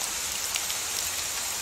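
Steady rain falling in an even, continuous hiss with faint scattered drop ticks, no voices or other sounds.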